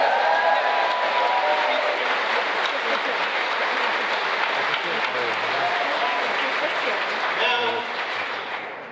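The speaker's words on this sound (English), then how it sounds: "So on behalf of the whole crowd, we got to give a hand again to Anna and John and Susan and everybody els" Sustained applause from a large crowd at a John Fetterman political rally, steady and loud throughout, tapering slightly at the end.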